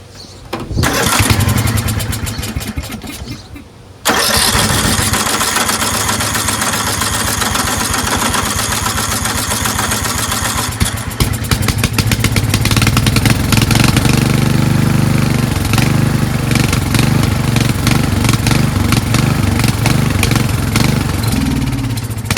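A Craftsman 13.5HP 30-inch rear engine riding mower with freshly adjusted valves runs rough on choke. It cranks briefly and catches, then holds a loud, close, uneven engine roar for nearly twenty seconds, with no talking.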